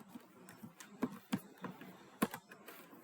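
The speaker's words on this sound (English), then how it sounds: "Someone typing." Soft, irregular keyboard clicks tap away at close range, a handful of keystrokes with brief pauses between them, while coding in Python.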